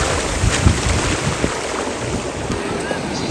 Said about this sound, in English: as we weren't paying attention to the waves, we got totally blindsided.